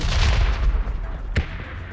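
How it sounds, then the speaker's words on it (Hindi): A grenade blast and gunfire in the mobile battle royale game BGMI (PUBG Mobile): a dense rumbling burst of shots, then a single sharp crack about two-thirds of the way through. "अब भाई ये हमारे ऊपर फेंकते हैं ग्रेनेड"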